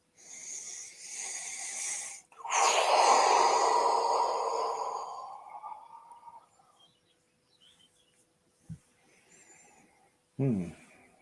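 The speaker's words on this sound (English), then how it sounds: "And breathe it in." A deep, slow breath drawn in during a guided meditation, loud and close with a rough snore-like texture, followed by quiet with faint soft sounds and a short closing breath.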